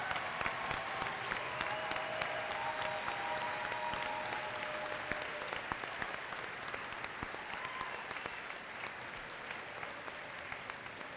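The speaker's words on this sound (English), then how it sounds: "Why don't you all stand up and let us give you a round of applause." A large audience applauds students at a robotics competition's opening ceremony, steady dense clapping sustained for several seconds and gradually easing.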